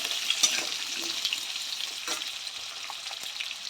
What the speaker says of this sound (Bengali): এবার আলুটা আমি ভেজে নেব